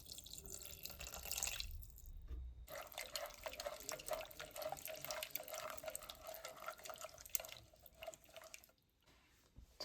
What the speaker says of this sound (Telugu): నెక్స్ట్ కొంచెం వాటర్ వేసుకుంటున్నాం.